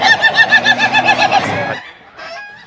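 An ayam ketawa laughing chicken at a contest in Yogyakarta crows in a rapid, rhythmic run of cackling pulses, loud and close, then trails off into a shorter, quieter final call.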